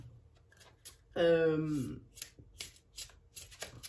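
Tarot cards are shuffled in a short, dense riffling burst that rises sharply and then trails off, with faint speech and light handling noises before and after.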